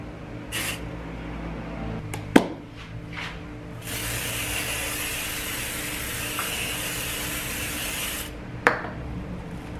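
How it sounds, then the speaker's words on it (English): Oil sprayed onto cling film in a kitchen: a long, steady hiss of spraying lasting several seconds, preceded by a few short spritzes and light knocks and clicks, close by with no speech. "I've never sprayed cling film with oil before."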